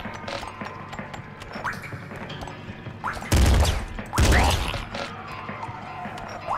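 Gunfire in the top-down shooter Nuclear Throne: scattered sharp clicks and pops, then two loud, dense bursts of rapid shots in the middle, with light game effects continuing around them.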